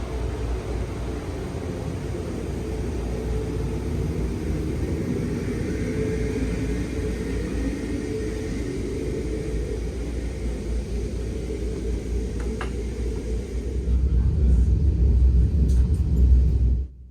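Inside a Brightline passenger train, a low continuous rumble and steady hiss carry through the cabin, swelling louder near the end before cutting off; no talking.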